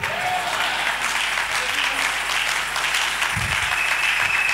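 A church congregation claps in loud, continuous applause that fills the room, with a voice speaking over it.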